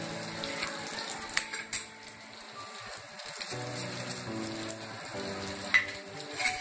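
Bubbling and sizzling of a pot of buttermilk curry (more kuzhambu) simmering on the stove, a soft continuous boil with small pops, close by and fairly quiet.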